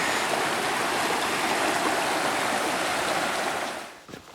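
Snowmelt stream rushing at a mountain river crossing near waterfalls on a high alpine trail, a steady close broadband roar that fades out near the end.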